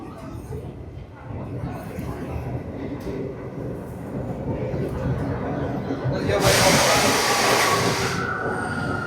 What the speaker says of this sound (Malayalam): ഇതൊരു അണ്ടർഗ്രൗണ്ട് മെട്രോ ആണേ